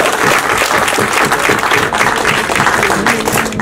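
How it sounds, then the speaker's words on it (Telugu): An audience at a film press meet on Republic Day breaks into loud, dense, sustained applause, with many hands clapping steadily throughout and no break. "గట్టిగా ఒకసారి చప్పట్లు పెడితే బాగుంటుంది."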